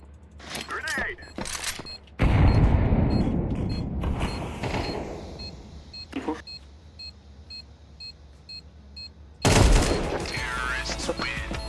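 Counter-Strike 2 match sounds: a loud grenade blast and gunfire burst in mid-clip, then another loud burst near the end, with game beeps and quieter clatter between.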